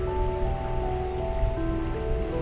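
Shallow water in The Talos Principle video game, a steady wash of lapping, surf-like water close by under a held musical drone, alone without voices.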